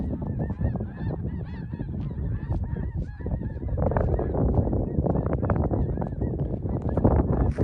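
A flock of geese honks repeatedly overhead above open prairie, a busy overlapping chorus of calls over steady rumbling wind.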